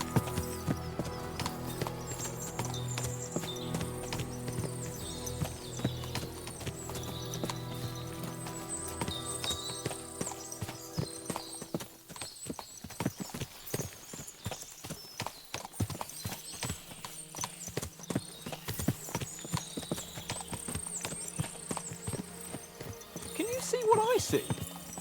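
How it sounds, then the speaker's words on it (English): Horse hooves clip-clop steadily in Kingdom Come: Deliverance II, many animals at once, with a dense rhythmic patter under background music and ambient noise. "What a lot of horses!"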